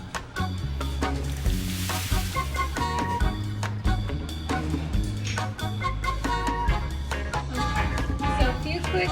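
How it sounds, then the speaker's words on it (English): A pan of food fries on a hot cooking surface, giving a steady, loud, crackling sizzle that runs the whole time. Faint background music plays underneath. "heating up so that I can go ahead and cook my chicken on it"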